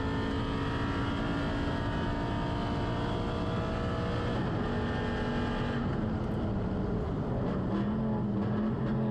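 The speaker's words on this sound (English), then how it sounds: "especially with the sound that Aston makes rumbling down these straights and around these corners" Aston Martin race car rumbling down a circuit straight in a winter series race at Aragon, a loud, steady engine drone with layered harmonics that shifts pitch partway through as it passes and moves on.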